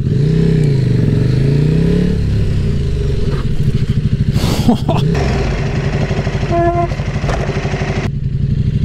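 A KTM 1190 RC8 R hypersport motorcycle is ridden and braked hard, its engine note loud and close, rising and falling with clattering mechanical noise while a rider talks over it.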